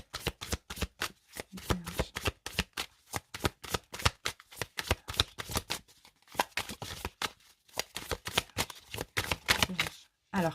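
Tarot cards shuffled steadily by hand, a continuous stream of rapid papery flicks and riffles with brief pauses, close and moderately loud, faint speech mixed in.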